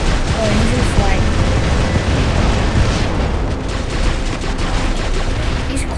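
War Robots mech combat produces dense, continuous gunfire and rumbling explosions, loud and close, forming an unbroken barrage with no clear gaps.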